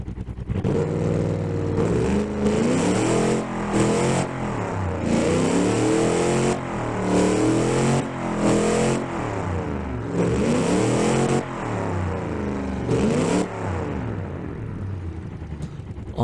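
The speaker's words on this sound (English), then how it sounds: "Hopefully, very glorious sounds are going to come out of this engine." A 1960s-style muscle car engine built in Automation and driven in BeamNG Drive revs repeatedly, rising and falling in loud swooping bursts with brief gaps between pulls, heard alone without talk.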